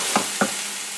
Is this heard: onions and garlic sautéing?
yes